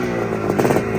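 A Suzuki T500 classic racer motorcycle engine runs close and loud in a brief, steady buzzing note that lifts slightly in a quick rev.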